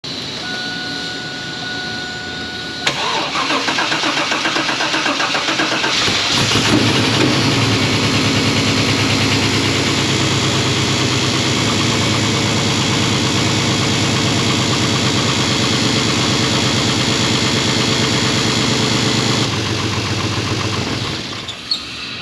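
A Firebird car engine with an exhaust leak starts and settles into a loud, steady idle with a rough, ticking rasp running through it for a long stretch.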